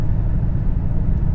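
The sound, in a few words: exhaust rumble of 2022 Mercedes AMG GLS 63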